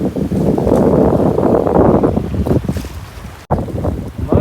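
Strong stormy wind roars and buffets the microphone aboard a fishing boat out at sea, with waves thudding against the hull in heavy, uneven gusts and a brief dropout near the end.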